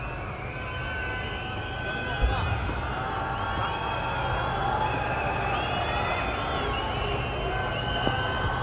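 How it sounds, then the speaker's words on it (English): A crowd at an India v England Test cricket match in March 2024 grows animated as Jasprit Bumrah comes on strike, a continuous distant roar with whoops and cheers rising over the steady stadium noise. "Crowd getting very animated because Jasprit Bumrah's on strike."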